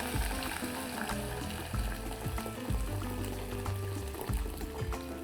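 Water poured into a small cooking pot to boil chicken breast for broth, a steady, fairly loud splashing fill that runs continuously for several seconds with no talk.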